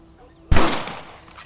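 A single loud rifle shot cracks close by in a Western game set on the American frontier, with a sharp attack and a long rolling echo that fades.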